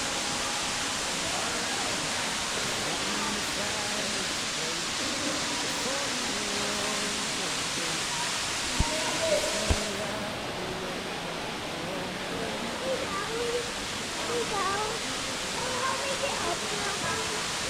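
A steady, loud roar of a waterfall in Matthiessen State Park, Illinois, fills the whole stretch without pause, with faint murmuring voices beneath it and a couple of brief knocks midway.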